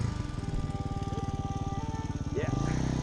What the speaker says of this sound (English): run the starter for a long time